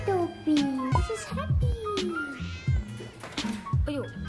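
Cats at a shelter meow repeatedly and loudly up close, with several overlapping, rising and falling cries and a few short caterwauls.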